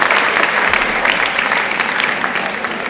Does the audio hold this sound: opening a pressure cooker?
no